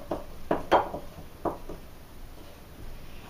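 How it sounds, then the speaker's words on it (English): A spoon mixing honey muffin batter in a bowl: a few scattered knocks and scrapes of the spoon against the bowl, moderately close, with quieter stirring between them and no talk. "it's just a matter of spooning it together with your spoon"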